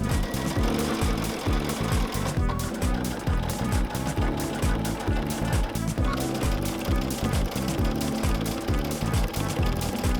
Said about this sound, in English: Do a reverse stitch at the end and now sew down the other side.